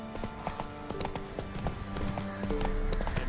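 Roach, a horse in the video game The Witcher 3, gallops with a fast, steady clip-clop of hooves, close and clear, getting louder toward the end.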